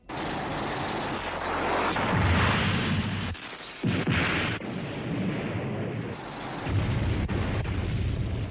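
A large explosion in a Godzilla film as the monster blasts the Futurians' UFO: a loud, sustained roaring blast that rumbles and swells over several seconds, with a brief dip before surging again, no voices present.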